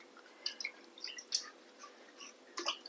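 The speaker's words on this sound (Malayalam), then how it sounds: "ഈ മഞ്ഞൾ വെള്ളത്തിലിട്ട കായൊക്കെ നമുക്ക് കഴുകി ഒന്നിങ്ങനെ എടുക്കാം." Raw bananas soaked in turmeric water are rinsed by hand, giving a series of light splashes, drips and wet squishes, close and quiet, with no talking.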